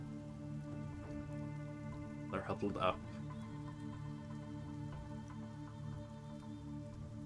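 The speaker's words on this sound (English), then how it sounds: "A little more of like a heavier stormy rain coming in." Steady rain falls as faint background ambience for a tabletop role-playing session, soft and continuous under a low musical drone, with a brief spoken line partway through.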